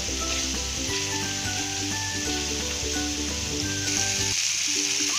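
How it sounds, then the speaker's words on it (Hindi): Spiced masala sizzles and fries steadily in oil in a kadhai while cooking a sweet-sour raw mango sabzi, a continuous close crackle with no voices. "हमारे मसाला अच्छे से भून रहा है"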